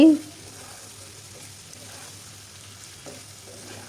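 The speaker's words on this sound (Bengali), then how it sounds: "এভাবে আমি খুব সুন্দর করে কষাতে থাকব খুব ভালোভাবে কষিয়ে নিচ্ছি" Chicken masala being stirred and sautéed in a pan, a steady low sizzle running throughout with a sharper clatter at the start and faint scraping later; no one speaks.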